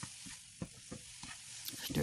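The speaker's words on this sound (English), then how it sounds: "Stir it around in there real good." Butter and seasonings are stirred in a pot for shrimp and grits, giving soft scraping strokes over a faint sizzle, quiet and close, with no talk.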